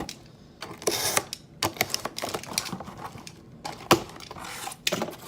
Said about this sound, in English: just want to cut a slit down each little crease here